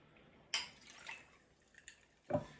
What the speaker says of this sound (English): Then we just pour this over ice